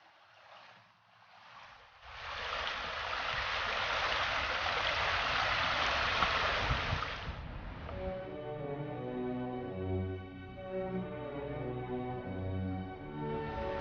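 Broadband rushing water of a creek in the Tarkine, Tasmania, a former alluvial gold mining stream, loud and steady for several seconds before giving way to a tonal, musical background.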